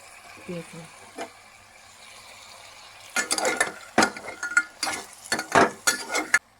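Potatoes, carrots and beans are stirred and fried in a pan, starting with quiet clinks and then turning into a run of loud, close scraping strokes over a faint sizzle.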